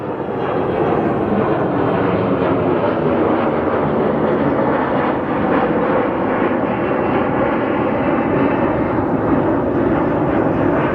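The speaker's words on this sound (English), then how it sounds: "I believe this is an Envoy Airlines or SkyWest, one of the two." A passenger airplane, an Envoy Airlines or SkyWest regional jet, at Phoenix Sky Harbor airport, its engines roaring loud and steady throughout as a broad continuous rumble with no talk over it.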